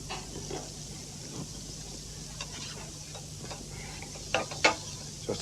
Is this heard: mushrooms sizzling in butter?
yes